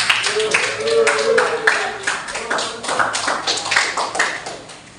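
A classroom of pupils claps steadily for several seconds, a dense patter of hands with a voice briefly heard beneath it.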